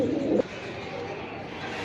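Pigeons coo at a pigeon sale, giving a low throaty burst at the start that is followed by a steady murmur of cooing in the background.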